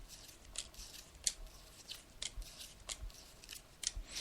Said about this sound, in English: I'm just laying out the cards now.